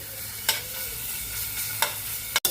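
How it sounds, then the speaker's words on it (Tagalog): Garlic and onion sautéing in a pan for stir-fried sweet potato leaves, a steady soft sizzle with a few sharp spatula scrapes against the pan. "Nagisa na po tayo ng bawang, sibuyas para sa ating ginisang talbos ng kamote with kalamansi."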